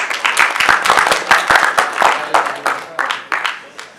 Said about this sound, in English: You deserve half of the claps,